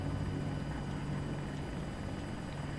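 An attack helicopter in the shooter Battlefield 2042 drones steadily with continuous rotor and engine noise, loud and constant throughout.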